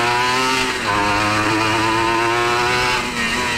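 A 1996 Honda NSR 150R two-stroke motorcycle rides and revs loudly up close, its buzzing, rising and falling engine note dominating with no talk.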